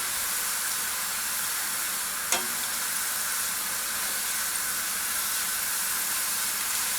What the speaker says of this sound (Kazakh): Суға салып, крахмалын кетіріп сөйтесіз да, бұны да қуыра бересіз.